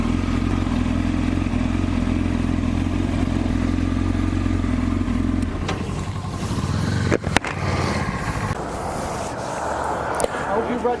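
Many motorcycles gathered for a group poker ride, a loud steady engine rumble and idle close by that gives way to mixed revving and clattering, with voices talking over it.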